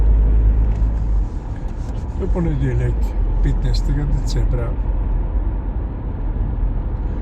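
Road traffic at a Ljubljana intersection late on a weekday morning, with a steady rumble of cars and engines passing throughout, while someone talks over it for most of the stretch.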